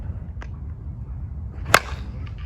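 A DeMarini Nautalai composite slowpitch softball bat strikes a softball with one sharp, loud crack over steady outdoor background rumble.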